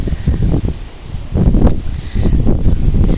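Gusty wind sweeps through garden plants and shrubs, a close, rumbling buffet of air with rustling leaves that rises and falls in uneven surges, hitting the microphone hard.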